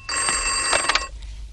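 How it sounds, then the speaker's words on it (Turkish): A mobile phone rings loudly and close by, a single bright electronic trill lasting about a second before it cuts off into quiet room noise. "Çiğdem, açsana kızın telefonu"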